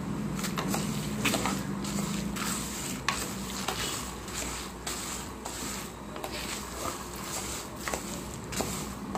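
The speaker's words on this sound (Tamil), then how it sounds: "சேர்த்து திருப்பி நல்லா வறுக்கலாம்." Horse gram being dry-roasted and turned in a pan with a little asafoetida, giving a steady close scraping and rustling with repeated stirring strokes over a faint background sizzle, no talk.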